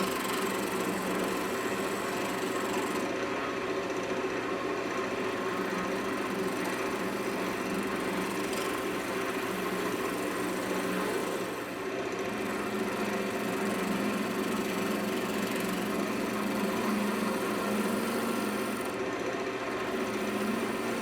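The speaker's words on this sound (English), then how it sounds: "then I just give it a final pass with my roughing gouge" A roughing gouge cuts locust wood on a spinning lathe, a steady near motor drone with a continuous scraping hiss of the cut running evenly throughout and only one brief dip midway.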